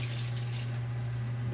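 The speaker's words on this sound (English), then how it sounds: "I'm going to get a glass of water real quick." Tap water runs steadily into a drinking glass, a continuous close splashing hiss that holds level for the whole moment, with no voices.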